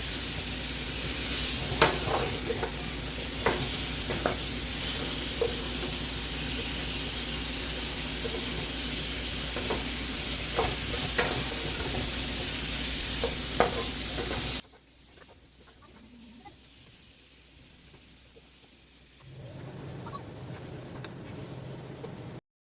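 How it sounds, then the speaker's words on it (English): Onions fry in a pan with a loud, continuous sizzle broken by stirring scrapes. After about fifteen seconds the sound drops sharply to a faint, quiet simmer. "I'll just let this simmer for a couple of minutes. I'll add a bit of onions to it for the flavor."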